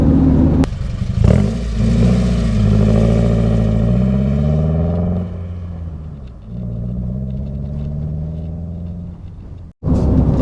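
A Honda Element with an aftermarket exhaust rumbles loudly and deeply as the engine revs up and settles, holding a steady growl before a sudden cutoff near the end, with no talking.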